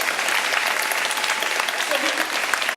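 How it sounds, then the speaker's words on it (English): A crowd claps loudly and continuously for entrepreneur panelists at the close of a discussion, a dense, even wash of applause lasting the whole stretch with no pauses. "let's give our panelists a big round of applause"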